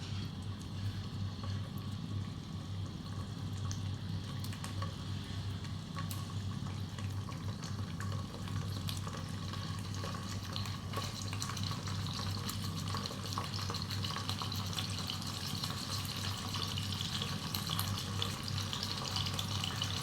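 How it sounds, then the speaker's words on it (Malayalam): Chicken pieces frying in sunflower oil in a pan, giving a steady, continuous sizzle and crackle throughout, with no talking. "ചിക്കൻ പീസ് ഓരോന്നായി ഇട്ട് കൊടുക്കാം."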